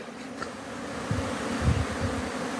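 Honeybees carrying pollen buzz around nucleus hives in an apiary, a dense, continuous swarm hum close by with individual bees droning past, no talking.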